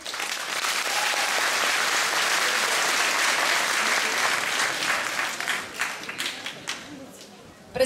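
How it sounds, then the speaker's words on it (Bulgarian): Audience applause at a Varta ballet 55th-anniversary event swells into a long, thick round, then breaks into separate claps as it dies away. "Аплодисменти. Още веднъж нека да ги чуем."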